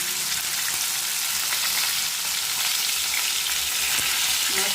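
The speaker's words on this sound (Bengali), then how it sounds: "মাছটাকে লাল লাল করে ভেজে দিচ্ছি" Continuous close sizzling of pomfret frying in oil in a pan, bright spitting crackle with a few louder pops and faint utensil clicks, no talking.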